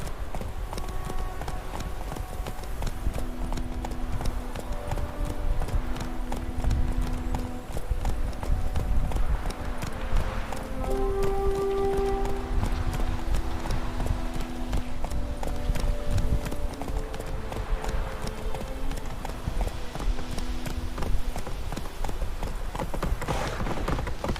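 Hooves of the horse Roach clip-clop in a steady galloping rhythm throughout a video game scene, layered over sustained musical tones with a faint voice now and then.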